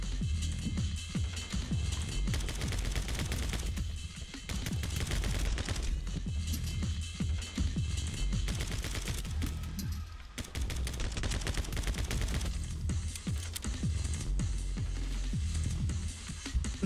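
Gunfire from the fun gun in My Friend Pedro: dense, continuous rapid shots and bursts under loud game music, steady and close for the whole stretch with only brief dips.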